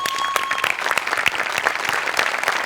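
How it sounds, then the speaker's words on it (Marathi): Loud, sustained applause from a studio audience at a Marathi comedy show, dense and continuous clapping with no break, close and full throughout. "एकदा जोरदार टाळ्या सगळ्यांसाठी."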